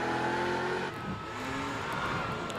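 A Ferrari 355 with five-valve cylinder heads revs hard on a hillclimb course at Prescott, its engine note climbing steadily as it accelerates, loud and fairly close.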